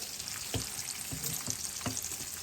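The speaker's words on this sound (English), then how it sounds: "Bacon will splatter." Bacon frying in a pan, a close, continuous crackling sizzle broken by several sharper pops and spatters, with no voices.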